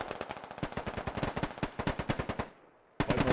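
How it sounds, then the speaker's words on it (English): Bursts of rapid automatic gunfire in the military shooter game Squad, a close, loud train of sharp evenly spaced shots that stops briefly into near silence before firing resumes. "Flamio Hotman putting down some shots"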